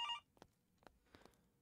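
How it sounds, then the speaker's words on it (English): Brief electronic telephone ring at the start of a pizzeria indie horror game, followed by a few soft thuds and clicks, quiet and close with no talk. "Okay, phone's ringing again."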